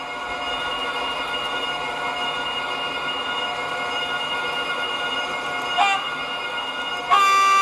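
A Roco DPB model train locomotive with DCC sound plays a steady droning engine tone, then two short, loud horn toots near the end, the second one sustained.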